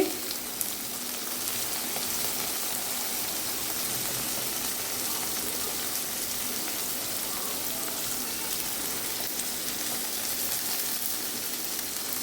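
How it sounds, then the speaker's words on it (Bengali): Bitter gourd fries in hot oil with turmeric and salt, giving a steady, even sizzle that holds for the whole stretch at moderate loudness with no talking. "করলা ফ্রাই হচ্ছে"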